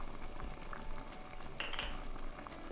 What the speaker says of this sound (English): Stir it all together and bring to a gentle simmer.